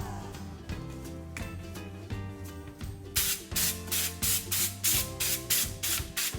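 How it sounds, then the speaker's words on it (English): Cooking spray hissed onto a baking rack in a foil-lined pan, starting as faint background hiss and then a run of about eight loud, close, rhythmic spray bursts. "And then I'm going to spray our rack"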